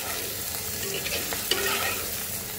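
Turmeric and coriander powder being stirred into hot oil in a pan for a hilsa curry with potato and brinjal, a soft sizzle under brief scraping strokes of a spoon, close and alone.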